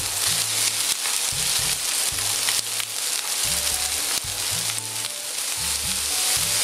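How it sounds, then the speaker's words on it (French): Ham drops into a hot pan of frying rice with mushrooms and broccoli, and a steady loud sizzle follows, overlaid by faint scraping and stirring sounds. Nobody speaks. "Le moment est venu de mettre le jambon"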